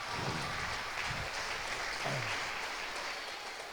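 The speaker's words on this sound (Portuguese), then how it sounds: "Querendo aplaudir, pode aplaudir o nome do Senhor." A church congregation applauds during a Portuguese-language sermon. The clapping is soft and distant, a smooth, hissy wash that holds steady throughout the short stretch.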